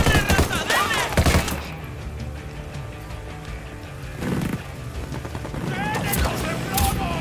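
Gunfire bursts in the tactical shooter Ghost Recon Wildlands, with loud shots early and again midway amid game sound effects and background ambience, while voices talk over the action.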